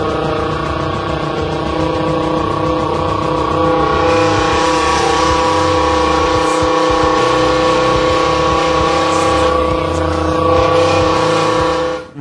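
A person imitates a V10 Lamborghini engine with the mouth, with a big can as part of the sound setup, producing a loud, sustained, car-like revving drone that holds steady for about twelve seconds before cutting off abruptly.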